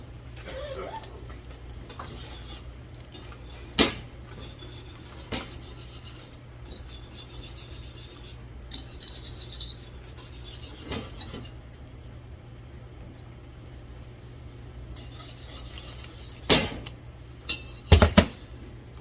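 Sugar poured and scraped into a pot of boiling strawberry rhubarb jam made from frozen fruit, raspy granular rubbing in repeated bursts with sharp clinks of a spoon against the pot and a low burner hum underneath.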